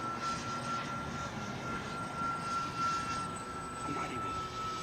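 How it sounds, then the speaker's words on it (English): A radio-controlled model airplane flies fast at high power outdoors, its engine a steady, buzzing drone with a thin whine that swells slightly as it passes, heard alone at moderate distance. "This plane wants to be on step. It likes the speed."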